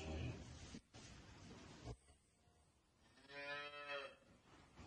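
A cow moos at a cattle sale of pure-breed cows with calves, one long, close, tonal moo rising after earlier rustling and handling noise.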